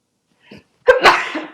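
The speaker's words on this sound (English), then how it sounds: "I'm gonna sneeze, I'm so sorry." A single loud, close human sneeze, preceded by a short sharp inhale and trailing off into a breathy release.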